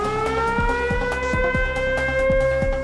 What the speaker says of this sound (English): here to talk to you about Wood County's outdoor warning sirens